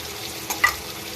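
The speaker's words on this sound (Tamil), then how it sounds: "இஞ்சி பூண்டு பேஸ்ட்டு சேர்த்துக்கிறேன்" Ginger garlic paste sizzles over softened tomatoes in a clay pot, a steady soft frying hiss with one or two brief stirring scrapes, close and alone with no talking.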